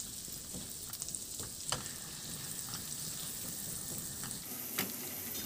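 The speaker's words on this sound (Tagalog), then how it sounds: "habang pinapatunaw natin yung butter, ilagay ko na rin yung bawang" Garlic sizzles in melted butter with a steady soft crackle and occasional spits and stirring clinks, close and moderately quiet, with no voices.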